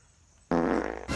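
A loud, sustained fart bursts in abruptly after a short quiet lead-in, holding steady for over half a second with a fluttering, buzzy texture before a final rough burst at the end.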